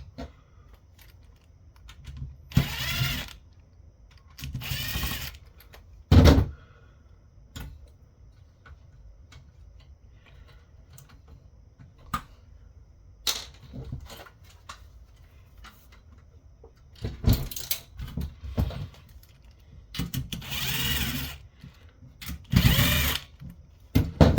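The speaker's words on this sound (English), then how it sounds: "there's some screws along the side of the panel I need to remove." Screws being removed from the side of a Lenovo all-in-one PC panel during a teardown: scattered ticks and clicks with several short bursts of a whirring powered screwdriver, close and fairly quiet, without talk.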